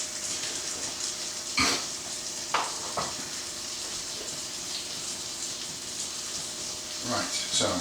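Grilled cheese sandwiches frying in a pan, a steady sizzle broken by several sharp scraping knocks as they are shifted about, with a voice talking over it at times.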